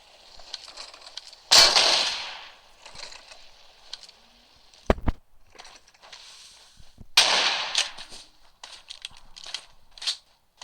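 Suppressed Kar98 rifle shots in a video game, a few sharp muffled cracks spaced several seconds apart amid quieter game noise, with a sudden loud burst partway through.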